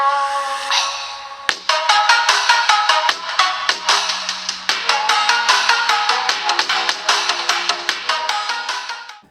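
A melodic phone ringtone plays loud and clear through the dual stereo speakers of a Xiaomi Poco M smartphone, a bright chiming tune of rapid repeated notes lasting several seconds.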